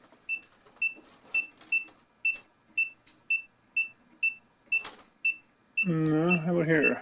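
Electrical breaker finder at a sub panel beeping in a steady, evenly spaced series of short high beeps, close and clear, followed by someone speaking briefly at the end.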